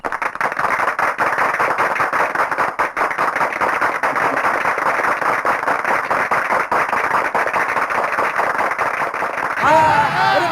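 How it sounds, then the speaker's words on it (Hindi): Dense, steady applause from a crowd at a political party's flag-hoisting ceremony, loud and continuous for about ten seconds, with a brief burst of voices right at the end. "तालियां तालियां तालियां"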